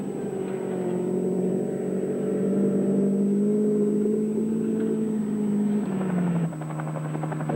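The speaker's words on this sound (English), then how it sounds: "This is Patrick Gratien from New Caledonia, in the 2-litre Celica, just by Lake Rotorua." A 2-litre Toyota Celica rally car driving by Lake Rotorua in a 1978 rally, its engine droning steadily at a loud, sustained pitch that drops slightly near the end, with no voices.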